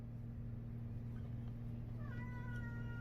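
A cat gives a short rising meow, faint and somewhat distant, over a steady low mechanical hum.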